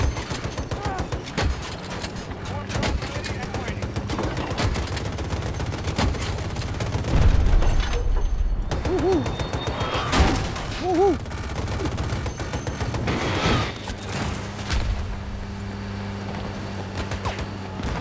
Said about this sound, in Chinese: 哎呀，爆炸！